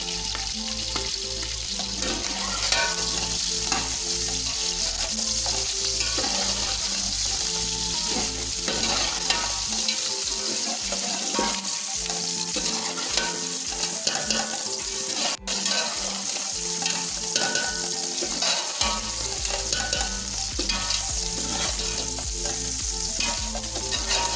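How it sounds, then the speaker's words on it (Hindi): Pigeon meat and garlic frying in a karahi give a steady, close sizzle with stirring and clattering of a spoon against the pan throughout, and no talking. "रेड हो गया, गोश्त भी फ्राई हो गया"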